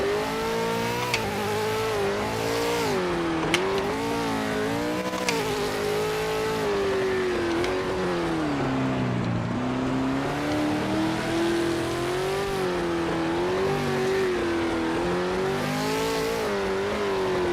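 A GT JP2 V8 supercar in a racing video game holds a loud, continuous engine drone. The pitch rises and falls smoothly through gear changes, with a few faint ticks over it.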